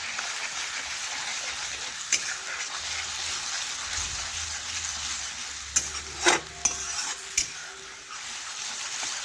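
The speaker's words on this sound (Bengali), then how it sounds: "দিয়ে এইভাবে আমি নাড়াচাড়া করতে থাকবো। নাড়াচাড়া করতে করতে একটু কষে নিচ্ছি।" Spices being stirred and sautéed with a little water in a pan for a vegetarian potol dish, a steady close sizzle with scraping spoon strokes clustering near the end.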